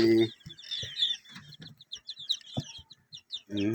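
White leghorn chickens cluck in short, scattered bursts with a few louder calls, close by on a backyard poultry farm at feeding time.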